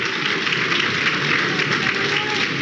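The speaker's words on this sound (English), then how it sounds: "Bernardo Silva just getting a round of applause" Sustained crowd applause fills a Premier League football stadium during Manchester City vs Brighton & Hove Albion, a dense, steady wash of clapping and crowd noise with no pauses.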